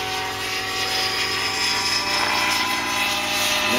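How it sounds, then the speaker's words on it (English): An MA 1005 helicopter flies through a windy Boxing Day snowstorm, its rotors giving a steady, loud, close whirring drone that holds for the whole stretch with no talking. "And then I got a bouncy helicopter in the wind."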